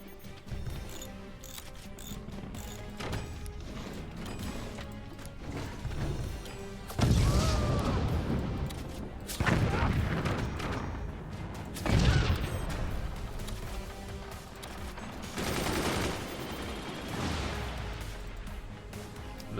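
Machine gun fire and heavy impacts in the Forts strategy game: a constant rattle of gunfire overlaid with several loud crashing booms at intervals, with a busy game soundtrack underneath.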